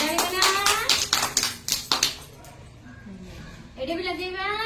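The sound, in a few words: children clapping hands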